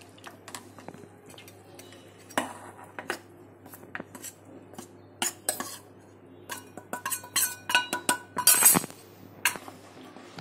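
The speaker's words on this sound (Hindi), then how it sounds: "आटा थोड़ा थोड़ा करके डालेंगे तीन चम्मच करके और इसको अच्छे से हिलाएंगे" A metal spoon clinks and scrapes steadily inside a bowl while wheat flour is stirred into jaggery water, the irregular taps growing busier and louder toward the end.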